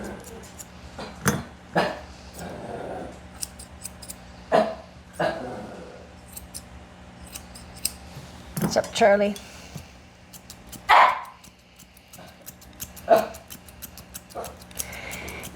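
A curly, not-yet-spayed Shih Tzu being groomed with scissors gives several loud, sharp barks close by at uneven intervals, with a person talking briefly between them.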